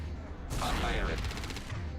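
Gunfire in Mass Effect 2 Legendary Edition with mods, a dense burst of shots and impacts over a steady combat rumble, fairly faint and with no clear talk.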